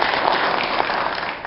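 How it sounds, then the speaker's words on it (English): An audience applauding for the mayor, a continuous, fairly loud burst of many hands clapping with steady density, heard alone without talk. "Another round of applause for Mayor"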